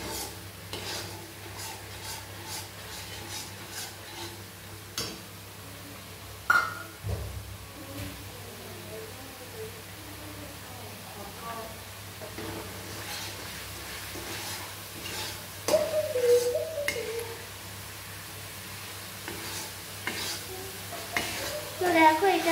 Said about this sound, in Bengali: এবার সেইটাকেও আমি কষিয়ে নেব এইভাবে